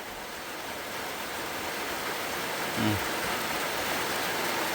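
Rain pours steadily at a field hut in the paddies, a constant close wash of hiss with a brief low voice breaking through for a moment.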